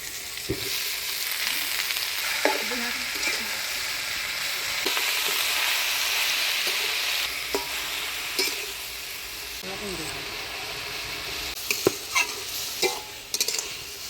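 Spinach tossed into a pan of potatoes and eggplant frying in tempering oil, with a loud continuous sizzle and repeated spatula scrapes and clinks up close throughout.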